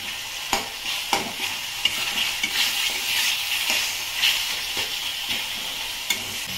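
Cooked tomatoes are stirred and mashed in a frying mushroom masala on a medium flame: a steady close sizzle with repeated sharp spoon knocks and scrapes against the pan, and no voices.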